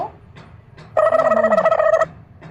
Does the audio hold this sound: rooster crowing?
no